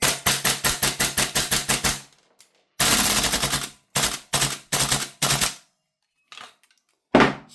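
An airsoft Mark 18 rifle fires BBs from a GunsModify MWS magazine: a rapid burst of sharp shots, a pause, a longer burst, then several short bursts and a few isolated shots, all close and loud.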